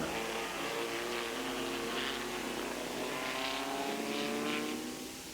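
Vintage Lotus race cars, a Type 11 and a Seven, racing at a historic Grand Prix in 1990, their loud engine drone holding steady and rising slightly in pitch, then easing off at the end.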